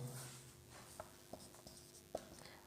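A pen writing numbers on paper during a class 10 maths lesson on real numbers, faint scratching with a few sharp taps of the pen, quiet and close, with a low voice briefly at the start.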